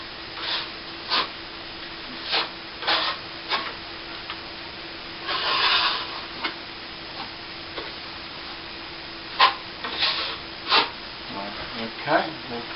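A trowel spreads a coat of plaster over a patched plasterboard ceiling where a vent used to be, making soft, irregular scraping strokes that come in short bursts against a quiet room.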